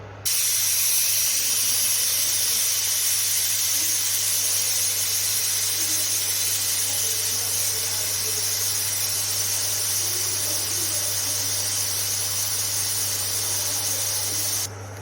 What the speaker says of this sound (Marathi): तर आपले इथं तीन शिट्ट्या झालेल्या आहेत